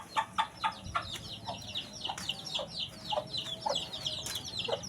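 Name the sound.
chickens clucking while eating bananas on a farm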